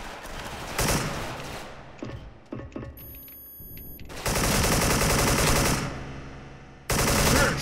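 AK74 gunfire in the Special Force shooter game comes as loud close automatic bursts, a short one early, a long sustained burst in the middle and another burst starting near the end, with quieter mechanical clicks in between.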